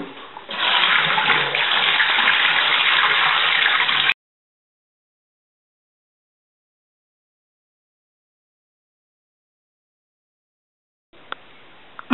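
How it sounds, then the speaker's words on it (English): Water from a cloth diaper wash drains out of a tub in a steady, close rush for about four seconds, then cuts off. Silence follows, and a softer flow returns at the end. "we got everything all drained out"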